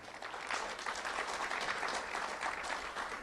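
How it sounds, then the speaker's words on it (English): Warm audience applause at a Lee County school awards ceremony naming Manatee Elementary the Do the Right Thing School of the Year; dense, even clapping carries throughout, with no voices over it. "Let's have a round of applause for Manatee Elementary School."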